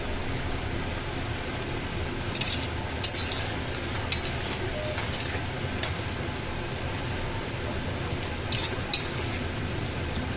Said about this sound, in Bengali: ডিমটা দিয়ে মশলার সাথে ভালো করে মিক্স করে দেব